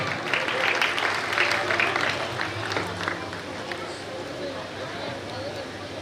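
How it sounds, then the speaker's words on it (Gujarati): An audience at a community award ceremony claps loudly and steadily throughout, with a dense wash of applause filling the room. "જોરદાર તાળીઓથી વધાવીએ."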